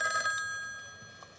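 A telephone bell rings in a wartime film scene, a bright metallic trill at the start that quickly decays into a faint fading ring, with no voices over it.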